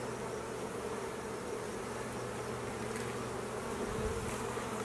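A swarm of bees buzzes in a steady, droning hum while being scraped by the handful toward a hive entrance, the sound close and continuous with no talking.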